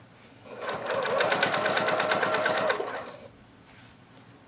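A sewing machine stitches through a zipper and a fabric piece for a tote bag, a rapid even chatter of needle strokes lasting under two seconds, close and clear, then stopping to quiet.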